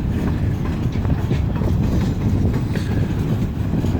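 A train halts at a railroad crossing whose signals failed after a major ice storm, giving a steady, loud low rumble with faint clanking that stays even throughout.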